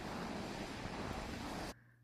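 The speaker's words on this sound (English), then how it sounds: "it's just really pretty and fun to watch the waves here" Ocean waves on a cold, foggy coastline below rocks and cliffs, a faint, steady roar of surf mixed with wind noise that cuts off sharply near the end.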